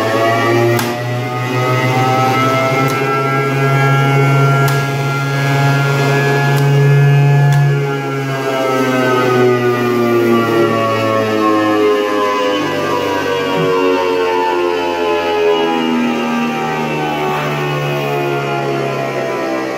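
An RCM Thunderbolt chopper with taped-over ports runs steadily in a near-empty, echoing garage, a loud continuous hum with shifting tones that slowly glide as it winds down.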